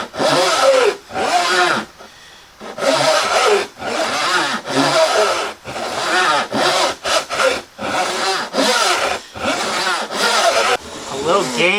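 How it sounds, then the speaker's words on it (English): A hand saw cuts through wood in long, rhythmic strokes, each pass a loud rasping push-and-pull separated by brief pauses, close up and repeating steadily, with a voice speaking intermittently beneath. "Give the saw lots of time to let the sawdust fall out of the gullet. Nice, long passes."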